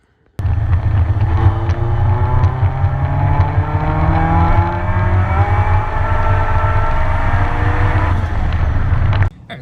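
A K-swapped Mini Cooper with added boost and a new AEM fuel pump roars loudly and continuously as it accelerates hard, pitch climbing through gear changes, heard from inside or close by for several seconds.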